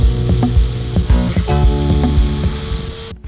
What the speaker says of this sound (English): The other way to get the gun blue and aluminum black off is with this electric file.